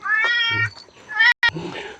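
A cat gives two clear, close meows in quick succession, the second shorter and rising, with a brief gap between.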